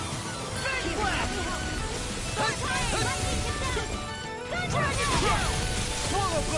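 A Fang Blast attack in the video game Tales of Arise lands as a dense string of smashing, crashing impacts with whooshing bursts, mixed into busy battle effects and music while voices shout through much of it.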